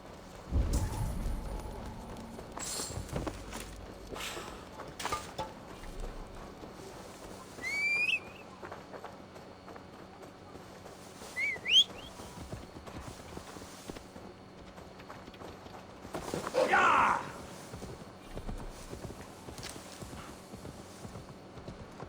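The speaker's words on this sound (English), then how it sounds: "Now to deliver Magni his horse." Horse hooves clip-clop at a steady walking pace in Assassin's Creed Valhalla, with a few whistles and brief bursts of noise over a quiet game soundscape.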